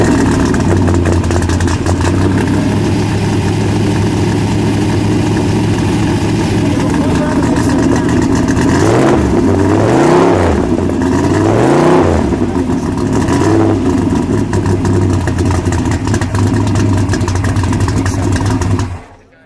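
A 1964 Shelby AC Cobra fires up and settles into a loud, lumpy idle, then is blipped through several deep rising and falling revs before idling again, close by with voices in the background.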